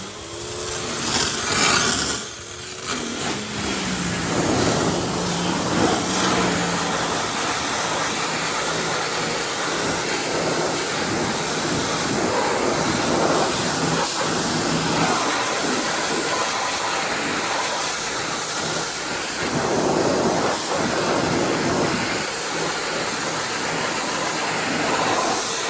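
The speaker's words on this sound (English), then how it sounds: "we'll get the pressure washer and see how this turns out" A pressure washer blasts a barn-find 1929 Cadillac 341B with a loud, continuous broadband hiss of spraying water lasting over twenty seconds, with slight surges as the jet moves across surfaces and no talking.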